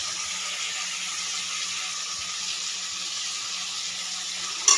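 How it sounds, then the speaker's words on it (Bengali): Water pours steadily into a simmering rui fish and prawn curry, a continuous close hiss that holds evenly for several seconds, with a small clink right at the end. "এবার জল দিয়ে দেবো,"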